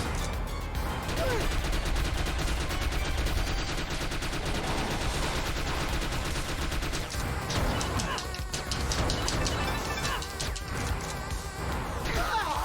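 Player's guns fire continuously in the video game The Mummy Demastered, a dense, loud stream of rapid shots running unbroken through the whole stretch with constant game noise underneath.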